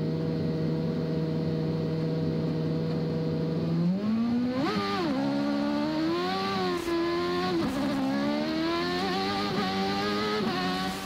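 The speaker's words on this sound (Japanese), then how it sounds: "赤ランプがつくと同時にエンジンの回転を徐々に上げていき" A 1992 Formula One car's engine drones steadily at the start line, then rises and revs up and down as the race begins, loud, constant and close up, with no talking.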